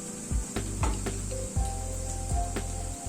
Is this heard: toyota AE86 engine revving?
no